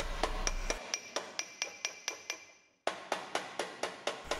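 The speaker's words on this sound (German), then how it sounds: "wird mit einem abgerundeten Ambossfäustling und einem Kletterhammer der Rand in Form gebracht" Sheet metal edge on a MatFord lamp housing shaped with a rounded dolly hammer and a planishing hammer, about a dozen sharp, evenly spaced ringing blows in two runs separated by a short pause, close and clear.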